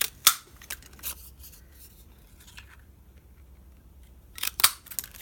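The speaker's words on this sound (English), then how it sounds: "you just cut the top off" Scissors cut the top off a sheet of paper. Sharp, close snips come in a short cluster, then a quiet pause, then a couple more crisp cuts.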